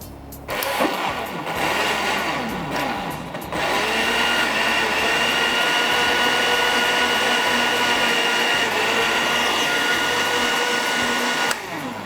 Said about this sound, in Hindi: ये अच्छे से ब्लेंड हो गया